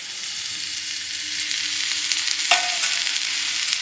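Fenugreek leaf curry sizzles and fries in a pan while being stirred, a constant bright hiss with a sharp utensil scrape partway through.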